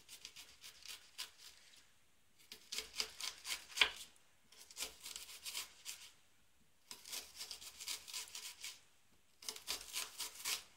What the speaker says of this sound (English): the best way to chop it is to go like really thin slices across, but don't quite cut all the way through